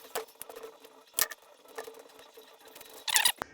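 An E7 reverse Torx socket on a ratchet backs studs off a 2008-2012 Ford Escape 2.5L A/C compressor, giving close, sharp metallic clicks in irregular short bursts.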